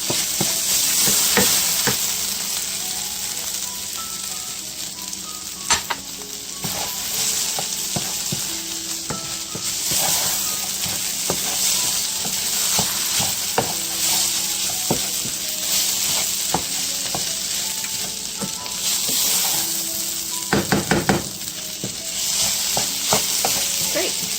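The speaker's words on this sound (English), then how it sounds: "just stir your vegetables" Vegetables and flour stirred together as they fry in a pan for a cottage beef pie filling, a steady broadband sizzle with repeated scraping stirs and light utensil knocks throughout, close and continuous with no talking.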